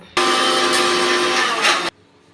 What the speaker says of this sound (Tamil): இந்த மாதிரி நைஸாக மிக்சியில் பவுடர் பண்ணியாச்சு.